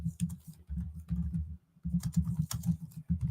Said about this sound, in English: sorry for the loud clicking